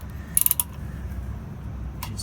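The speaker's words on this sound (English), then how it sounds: "We have to use a 12mm socket wrench. That wasn't even very tight." A 12mm socket wrench loosening the brake caliper bolts on a 2007 Honda Rebel, heard as a quick run of close metallic ratchet clicks followed by a lone click, over low background noise and without talking.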